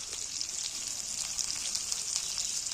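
Chopped garlic sizzling in hot oil in a pan for a Bengali jackfruit (echor) curry, a steady bright hiss of frying without pause throughout, close and fairly even, with no talking.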